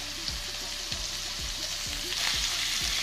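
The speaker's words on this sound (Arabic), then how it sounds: "اول ما سخنت معايا خالص ابتدي بقى انزل بشرايح اللحمه اللي احنا تبلناها" Marinated meat slices sear in a hot pan for French-style mushroom piccata, giving a loud continuous sizzle and crackle with rhythmic low thumps repeating about every half second, close up and uninterrupted by speech.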